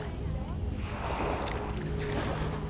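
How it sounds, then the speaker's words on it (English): Steady broadband wash of ocean waves at a beach on Sentosa, continuous and fairly close, with a soft rushing surge through the middle and faint voices underneath. "listening to the sound of the waves"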